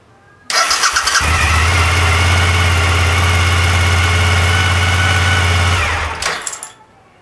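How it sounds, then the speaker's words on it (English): A Suzuki SV1000 motorcycle on a LiFePo4 battery cold-starts with a brief crank, then catches. It settles into a loud, steady, close-up idle for several seconds before shutting off abruptly. "I did not start this motorcycle today, so yeah, this is a cold start on a rather warm day."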